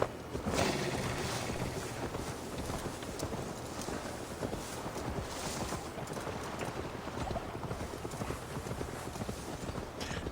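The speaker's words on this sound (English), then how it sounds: "Now to deliver Magni his horse." Horse hooves clip-clop at a steady walking rhythm in Assassin's Creed Valhalla, continuous and fairly close over a bed of outdoor ambience, with no talk.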